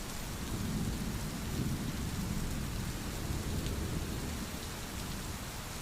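Heavy rain pours down steadily during a thunderstorm, a dense, unbroken hiss with low rumbling thunder beneath it, loud and close throughout.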